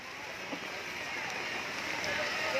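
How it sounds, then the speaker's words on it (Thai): Rain beginning to fall over an open-air forest-produce market on the Mekong riverbank, a steady broadband hiss of drops that holds evenly and swells slightly toward the end, with no clear voices. "ฝนมาแล้ว ฝนตกห้ามอยู่ตลาดแล้วพี่น้องเอ้ย"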